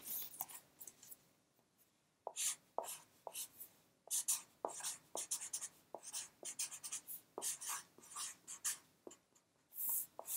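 Pen scratching words onto a sheet of paper, a quiet close run of short strokes in irregular bursts with brief pauses between them.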